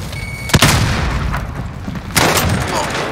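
A frag grenade detonates in Call of Duty Modern Warfare during a Team Deathmatch match, giving a sharp loud boom followed by a second blast-like burst, all over steady gunfire and game noise.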